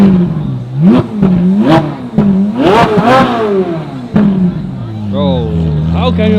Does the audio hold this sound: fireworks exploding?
no